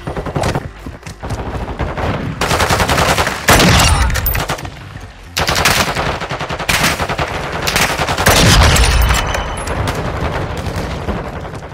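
M16 rifle fire in the Call of Duty video game: loud, rapid automatic bursts ring out in long strings separated by short pauses, dense and punchy throughout.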